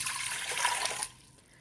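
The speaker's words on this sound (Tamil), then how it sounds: "இந்த பாத்திரத்தில் 380 ml அளவுக்கு எடுத்துருக்கிற தண்ணியை சேர்த்துக்கலாங்க." About 380 ml of water poured into a steel vessel for making soap gives a brief close splashing pour that stops abruptly after about a second.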